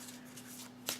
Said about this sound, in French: je vais tirer une carte de l'oracle des anges et des cristaux